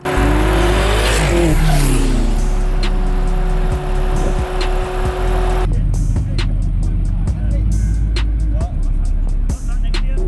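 A BMW drag car accelerates hard and revs loudly at a drag racing event, its roaring engine close by and continuous, with tire noise and people talking over it.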